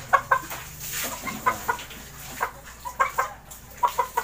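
Dark-legged backyard chickens cluck in short repeated bursts, close and fairly loud, with a faint hum of farm surroundings behind.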